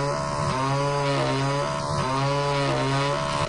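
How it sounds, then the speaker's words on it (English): A virtual chainsaw cuts into the desktop in the Windows game Desktop Destroyer, giving a loud, continuous buzzing whine whose pitch dips and rises twice as it bites in, with no talking. "I'm going to chainsaw my desktop."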